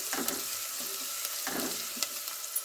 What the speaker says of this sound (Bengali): তেলের মধ্যে আমি ভালো করে পেঁয়াজটা নেড়ে চেড়ে লাল করে নিচ্ছি।